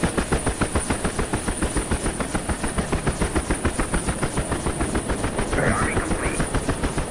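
Chinook tandem-rotor helicopter in a flight simulator game, a steady rapid blade thump pulsing evenly and loudly throughout with a low engine drone underneath.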